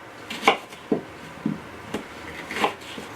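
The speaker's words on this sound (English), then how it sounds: "Cut our apple, core it, slice it up, quarter up our yellow onion" A knife cuts and slices apple and yellow onion on a board, five or six separate crisp chops spaced irregularly, close and fairly quiet, no talk.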